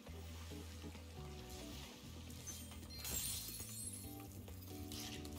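A glass jar smashes in Spyro: Year of the Dragon, a brief bright crash in the middle that rises faintly over quiet, continuous game music, with no talking.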